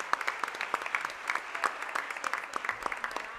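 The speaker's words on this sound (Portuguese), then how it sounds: "Palmas para a tia Cristina" Applause from a small audience at a solemn children's Bible education ceremony, faint and scattered claps with distinct individual hand strikes, brief and fairly distant.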